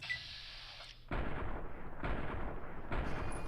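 Heavy gunfire in Fallout New Vegas, with three loud booming shots spaced about a second apart over a low background hum, each blast leaving a rumbling tail that lingers until the next.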